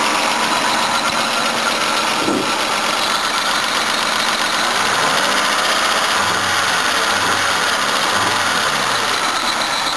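A 1984 Toyota Cressida engine idles steadily with a low, even rumble and faint vibration, no talking.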